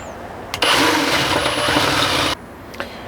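A power drill with a larger bit bores into a 4th Gen 4Runner floor, one steady loud whirring burst of under two seconds framed by brief quiet.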